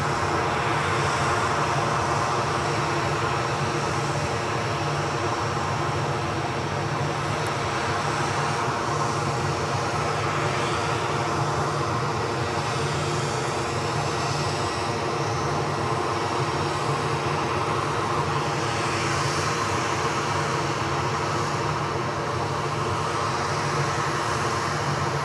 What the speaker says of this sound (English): WestJet 737 MAX actually only been in the air 6 hours. Aircraft 6 years of age, well into final.